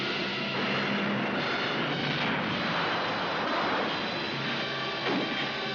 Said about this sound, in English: United Nations planes scorch an enemy ridge position with flaming napalm.